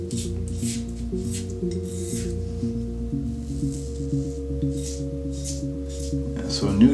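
A Phoenix Al-Fin CK-6 safety razor with a fresh Treet blade makes a first pass with the grain, short soft scraping strokes repeating over a steady background hum.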